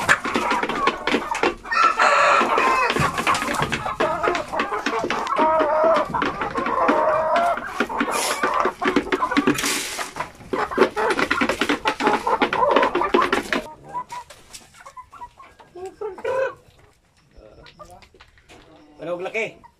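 Chickens, likened to small Visayan native fowl, cluck busily and crow loudly close by, with a dense burst of calls for most of the stretch before thinning to sparse clucks near the end.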